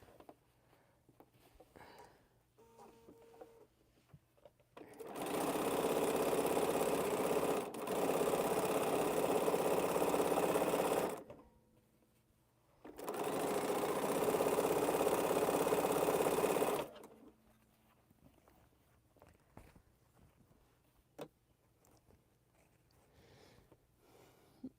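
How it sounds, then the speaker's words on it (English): A purple Panasonic sewing machine joins two quilt block pieces in two long steady runs of rapid whirring stitching, loud and close, with quiet handling sounds before, between and after. "we're just sewing these two pieces together and making our block"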